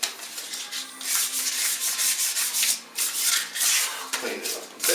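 Dry 400-grit sandpaper scrubs across a flat aluminum sheet in quick, rhythmic back-and-forth strokes, close and fairly loud, with brief pauses between passes.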